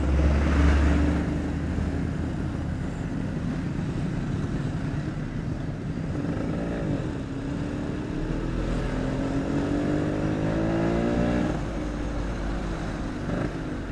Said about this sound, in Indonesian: Motor ini hasil pinjaman.